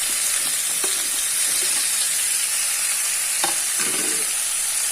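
Chicken pieces and potato fry over fried onions in a pan for an Assamese-style chicken curry, giving a steady close sizzle. A few scraping stirs break through, and no one speaks.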